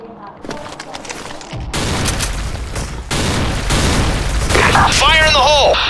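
A grenade explodes in a video game shooter match: a sudden heavy blast erupts, followed by a second loud boom moments later, with crackling gunfire and voices in the busy mix.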